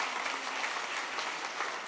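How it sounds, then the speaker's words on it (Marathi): Audience clapping inside a church during a parish gathering, a dense, even burst of applause from many hands, close and steady for a couple of seconds with no voices above it. "आपण टाळ्या वाजवून त्यांचा आभार मानूया."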